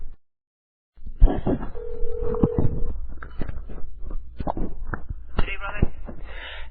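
A telephone call being dialed on a radio show, a single steady dial tone beep followed by muffled line noise and clicks as someone talks.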